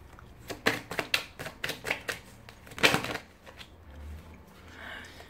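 Playing cards are drawn and laid out for a reading, making a quick run of crisp flicks and snaps up close, followed by softer rustling and quiet handling.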